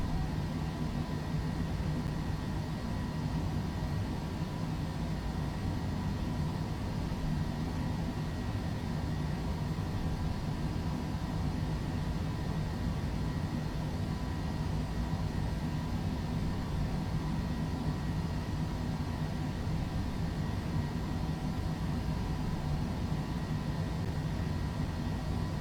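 A Cessna Citation C700 business jet taxiing at Krakow airport in Microsoft Flight Simulator gives a steady, even engine drone and whine that holds unchanged throughout with no voices.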